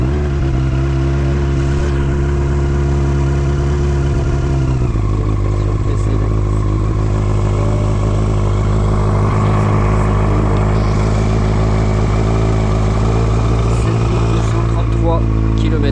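A Yamaha R1 motorcycle is started on choke after sitting unused for a long time, a loud engine catching after a few seconds, then settling into a steady, throbbing idle close by.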